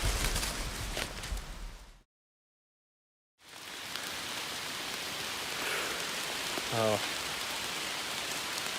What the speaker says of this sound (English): It's fucking raining. Hard.